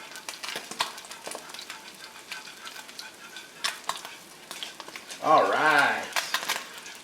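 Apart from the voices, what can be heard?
bronzini fish frying crispy in pan, polenta being stirred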